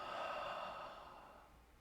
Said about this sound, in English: Take a deep breath. Let go on the exhale.